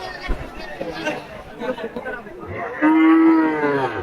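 At Taherpur cattle market, a cow gives one loud, drawn-out moo close by, preceded by steady crowd chatter and people talking in the background.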